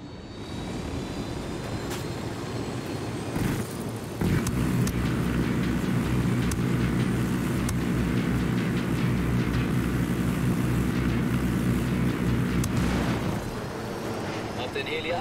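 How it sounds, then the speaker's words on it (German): A helicopter roars in the Ghost Recon Wildlands video game, a steady, loud rotor-and-engine drone that grows heavier after a few seconds, with scattered clicks and bursts of game noise layered over it. "Hab den Heli abgeschossen."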